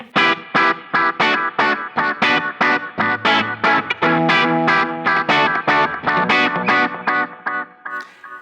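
Electric guitar through a Delay Llama delay pedal in an effects loop of a KMA Machines Tyler Deluxe, playing a steady run of picked notes with echoing repeats and slight grit, loud and continuous.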